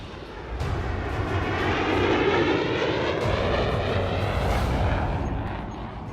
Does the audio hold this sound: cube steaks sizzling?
no